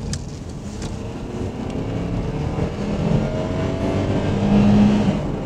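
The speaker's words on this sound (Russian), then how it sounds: "Итак, немного подадим газу." Honda Elysion minivan with a 2.4-litre engine accelerating on a road, a steady, rising engine drone that grows slightly louder over several seconds, heard from inside without talk.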